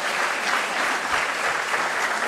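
Graduates and guests at a grammar school graduation ceremony give a dense, sustained round of applause, steady and fairly loud with no talking over it.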